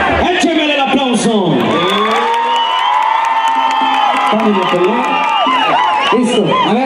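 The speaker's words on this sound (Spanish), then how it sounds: "¡écheme el aplauso!" An audience at a couples dance contest cheers, whoops and applauds loudly and continuously, with shouted voices rising over the dense crowd noise nearby.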